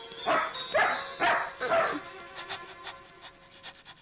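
A dog barks four times in quick succession close by, then pants in short rapid breaths that fade, with a faint voice underneath.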